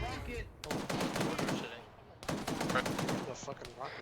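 Sustained rifle and machine-gun fire in the Arma 3 military shooter, loud and close, with two long rolling volleys of rapid overlapping shots separated by a brief lull.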